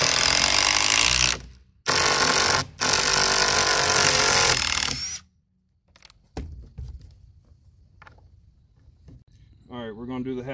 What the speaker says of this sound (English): now we're gonna do the impact drills